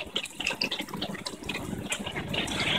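Water pours and gushes into a gravel media bed of an aquaponics system at a facility in Chandigarh, India, fed through a siphon from a sump; a steady, close, continuous splashing flow that grows slightly fuller toward the end.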